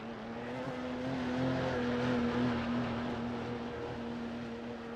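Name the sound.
Porsche race car engines passing on track, sim racing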